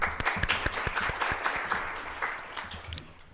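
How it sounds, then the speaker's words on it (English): Welcome applause from the audience at a corporate leadership panel on women in Kuwait and the Gulf, a few seconds of steady clapping with sharp individual claps standing out, fading toward the end. "Please give her a warm welcome applause"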